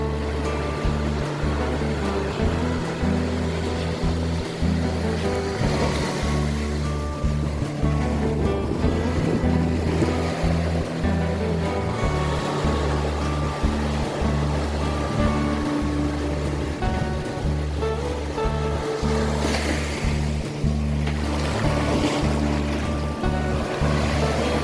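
Ocean surf washes steadily along the shore at Pudak Beach in South Blitar, a continuous loud roar with a low rumbling undertone and swells that rise and fall, with no voices over it.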